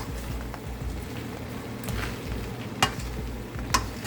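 Shrimp fried rice with green onion sizzling steadily in a hot pan, a continuous frying crackle with occasional sharper clinks of a utensil stirring and scraping.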